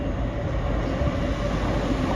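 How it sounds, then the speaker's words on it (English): A Class 88 locomotive hauls a freight train from Daventry to Moss End past Stafford on the Trent Valley Line, rumbling loudly and steadily close by with a continuous broadband roar and no voices. "It's going to be a freight train from Daventry to Moss End."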